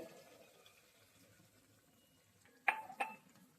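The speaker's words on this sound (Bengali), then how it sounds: "একটু জল দিয়ে দিই আমি" Water is poured into a cooking pan of browned, oil-separated curry, giving two short, bright splashes and sizzles near the end after a quiet stretch of low kitchen hiss.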